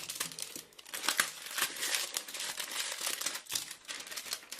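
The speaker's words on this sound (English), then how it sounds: "So I think I'm gonna need a knife here. Just peeling off the plastic." Plastic wrap is sliced and peeled off a Samsung Galaxy C9 Pro phone box with a knife, giving a continuous close crinkling and crackling with sharp ticks, alone without talk.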